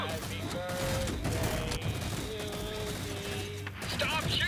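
Heavy, continuous gunfire fills a Red vs Blue Season 11 episode, a dense loud barrage that never lets up, with tonal game or soundtrack layers running underneath.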